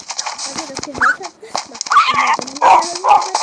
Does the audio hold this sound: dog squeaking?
yes